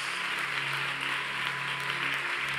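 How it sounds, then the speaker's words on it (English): A church congregation claps hands together in a steady, dense wash of applause that holds at an even level throughout, with no voices standing out. "Everyone clap those hands,"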